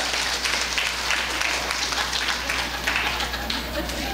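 An audience at a health forum claps continuously, a dense, even wash of many hands applauding with a steady low hum underneath.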